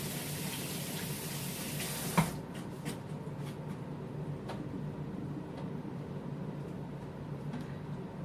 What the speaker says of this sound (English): I'm just going to do a quick wash of the hands.